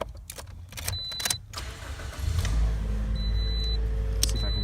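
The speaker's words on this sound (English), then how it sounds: "it's also helpful to crank the vehicle" A car engine cranks and turns over, then settles into a steady idle rumble, after a few sharp mechanical clicks and clunks near the brake pedal and booster during brake installation work.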